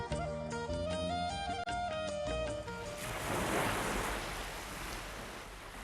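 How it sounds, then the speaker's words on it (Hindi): Sea waves rise and fall around a shrine standing island-like in the water, a broad, rushing wash of surf that swells after a stretch of sustained musical tones at the start. "समंदर में लहरों के उठने और गिरने के साथ साथ दरगाह एक जजीरे नुमा नजर आती है"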